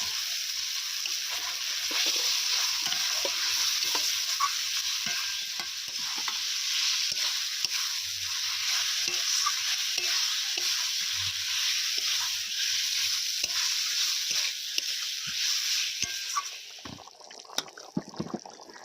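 Fried potatoes stirred into sizzling masala with a little water in a pan, a loud constant frying hiss with scattered spatula scrapes and taps, close, easing off near the end.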